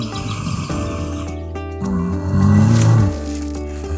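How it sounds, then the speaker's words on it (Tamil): A cartoon lion snores loudly in a forest: a deep, rumbling, drawn-out snore sound effect that swells toward the end, with no speech. "அவர் போடுற கொரட்ட சத்தம் இந்த காடு முழுக்க கேக்குற அளவுக்கு பயங்கரமா இருந்துச்சு"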